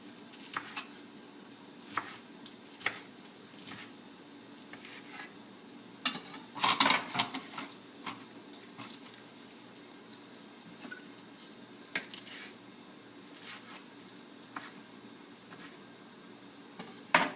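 A knife chops spinach on a cutting board, quiet uneven thuds and taps coming in short bursts with a brief quicker flurry midway, close by and without any talk.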